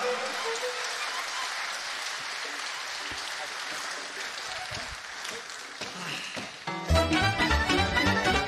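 An audience at the Dan Moisescu folk festival applauds the orchestra with a steady wash of clapping for several seconds. Then the band strikes up loud folk music that takes over.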